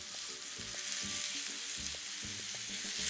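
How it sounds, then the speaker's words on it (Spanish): Ground beef marinated in chimichurri browns in a pan over a high flame, a dense steady sizzle and crackle with faint stirring scrapes, close and continuous. "Vamos a dorar la carnita."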